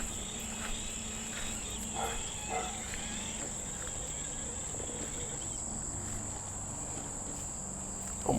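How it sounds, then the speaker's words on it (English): Steady high insect chirring, consistent with a grasshopper or cricket, fills a quiet outdoor trail scene, continuous throughout with faint background rustling. "look how big that grasshopper is"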